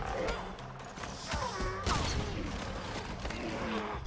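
Blaster fire and impacts from a Star Wars Ahsoka episode, sharp cracks and crashing hits scattered unevenly through a busy action-scene mix of whooshes and clatter, with occasional voices.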